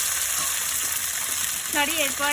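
Vegetables drop into spices already fried in oil for a Gobindobhog rice vegetable khichuri, setting off a steady close sizzle that swells with a brief surge of bubbling frying near the end.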